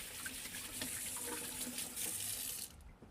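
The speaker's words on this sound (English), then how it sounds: "So let me just rinse off my hands." Tap water runs steadily into a sink while hands are rinsed under it, making a close, continuous hiss that fades out near the end.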